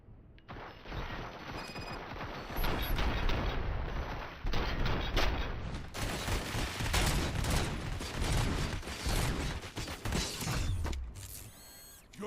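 Gunfire opens up after an order to shoot: after a quiet mechanical opening, dense bursts of shots and rattling volleys crash out repeatedly, loud and close, with metallic clanks between them.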